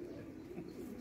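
A racing pigeon gives a soft, low, throaty coo, quiet and brief, heard alone against faint room noise.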